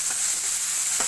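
Tomatoes are stirred into a frying masala paste for a spicy aubergine dish, giving a loud, continuous hissing sizzle with two soft scraping stirs close by.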